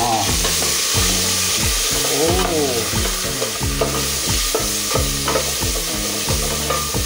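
Loud, continuous sizzling of food frying while being stirred, with rhythmic scraping strokes across the pan, close up and without talk.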